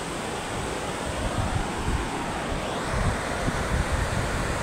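Sea waves on a Kokan beach in the morning: a steady, loud wash of surf and rushing noise with gentle swells, mixed with wind buffeting the microphone, and no voices.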